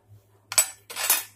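A spoon scrapes and clinks against a metal pressure cooker while mixing lentils with salt and turmeric, two short stirring strokes, close and fairly loud over near silence.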